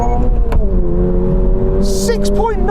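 Toyota GR86 accelerating hard from a standstill on a wet road, engine note rising steadily through the gears, heard from inside the cabin with a brief hiss near the end.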